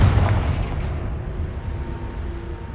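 Confringo fire spell detonating in Hogwarts Legacy, a deep booming blast with a rumbling low-end tail that stays loud and dense throughout, no talk over it.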